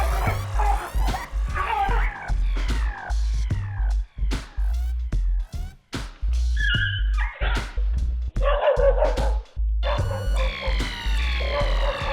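Dog whimpering and yelping during a leopard attack inside a house, high cries recurring over a dense noisy background with a low rumble throughout.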